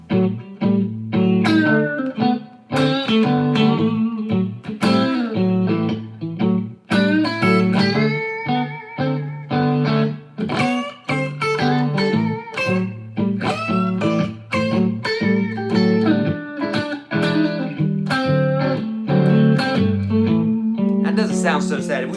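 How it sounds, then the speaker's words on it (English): Guitar playing bluesy minor pentatonic lines over major chords, with effects and some distortion; a busy, continuous run of bent and picked notes, loud and up close, with no pauses. "So listen to this minor sound. It sounds very bluesy, very sad, right?"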